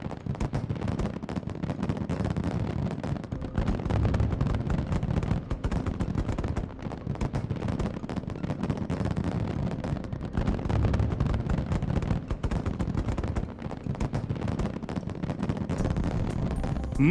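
Fireworks show in the video game Aether Gazer, marking the opening of a salon: a dense, continuous barrage of booming bursts and crackling pops, loud and sustained throughout with no voices.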